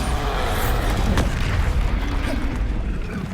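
A Bombarda spell blast in the game Hogwarts Legacy: a dense, loud, sustained booming roar of explosive energy filling the whole stretch, with a sharp burst near the start and rumble throughout.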